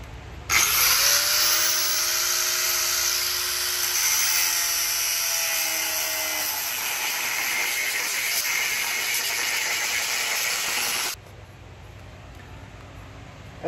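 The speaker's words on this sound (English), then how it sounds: "Let's cut some steel." A power tool cuts through quarter-inch-thick steel as part of a trailer conversion: a loud, close, continuous high-pitched grinding whine that holds for about ten seconds, then cuts off abruptly.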